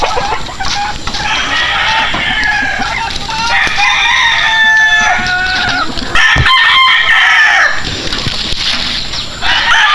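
Hens cluck busily close by while a rooster crows loudly, with a brief flutter of wings and farmyard bustle throughout.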